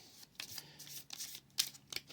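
A deck of monster cards for a Dungeons & Dragons-style dice board game gets shuffled nearby in a few quick papery riffle bursts, quiet and alone.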